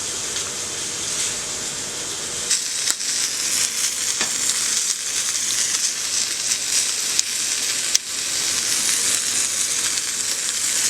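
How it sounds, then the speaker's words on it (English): Chicken pieces fry in a pan for chicken Alfredo, with a steady, loud sizzle throughout and a few sharp clicks and scrapes mixed in. "I have my chicken done already"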